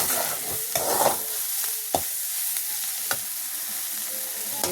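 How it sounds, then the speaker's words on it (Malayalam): Beef fries in a pan for a dry-fried beef dish while a spoon stirs it, a constant hiss of sizzling broken by several sharp scraping knocks at irregular intervals, near and alone. "എന്നിട്ട് അതിന് ഇളക്കി കൊടുക്കുക"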